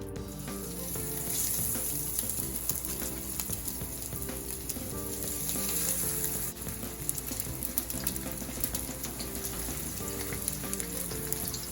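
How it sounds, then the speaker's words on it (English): Breaded steak milanesa frying in hot oil, a steady dense sizzle with crackle running throughout under faint background music, no talking. "Now when I lay this into the oil, I wanna lay it down so it goes that way"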